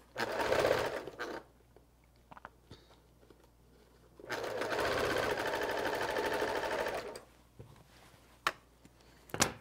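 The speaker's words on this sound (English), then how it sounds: "Then again, sew this row." A sewing machine stitches rows of a checkerboard star quilt block in two bursts of fast, even whirring, with quiet pauses and a few clicks between them. No voices are heard.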